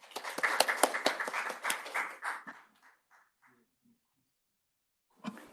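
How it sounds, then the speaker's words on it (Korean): Seminar audience at a fiscal policy and accrual accounting session claps to welcome a research fellow: a loud burst of clapping that thins out after about two seconds and fades to silence, with a brief sound returning at the very end. "큰 박수로 박노욱 연구위원님 맞으시기 바랍니다."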